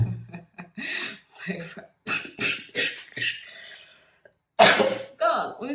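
A single sharp cough bursts out near 4.6 seconds, close and loud, after a stretch of hushed, broken talk and a brief pause; quieter speech follows right after.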